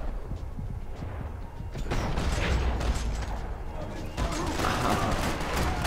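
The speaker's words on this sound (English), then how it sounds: "Now where am I getting shot from?" Gunfire crackles in Max Payne 3 as enemies shoot at the player, a dense, continuous fusillade of overlapping shots and impacts that grows louder after the first two seconds, with brief voices mixed in.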